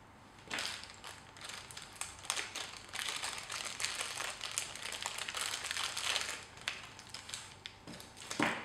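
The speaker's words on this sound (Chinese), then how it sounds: "接下来我们把舵机也拆包，总共2个 SG90 的9克舵机。" Packaging of two SG90 9g servos being opened, with close, quiet plastic crinkling and crackling in irregular bursts that run almost continuously.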